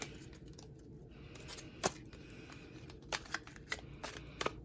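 Tarot cards being shuffled by hand, a soft papery rustle with several sharper riffling snaps toward the end, close and fairly quiet with no talking.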